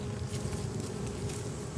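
Bees buzz continuously around a hive inside a water meter box, a close, steady hum with individual insects passing near.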